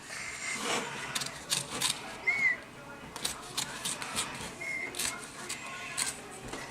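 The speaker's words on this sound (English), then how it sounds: "I'm just gonna cut off any more that I can down here" Scissors trim excess fabric for a handmade planner cover, giving a series of close, short snips and rustles with brief rubbing sounds between the cuts.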